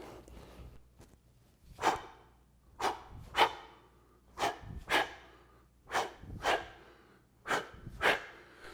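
Heavy breathing during kettlebell swings, a series of about eight sharp, close exhalations and snorts in a steady rhythm, each a short forceful puff of breath with quiet gaps between.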